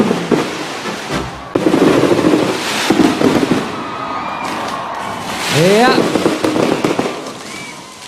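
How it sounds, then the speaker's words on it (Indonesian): Fireworks pop and crackle continuously, with booms and a rising whistle, while a crowd cheers and people talk nearby, at an Islamic boarding school anniversary celebration. "Sepertinya ini pesta kembang api paling meriah di abad ini ya."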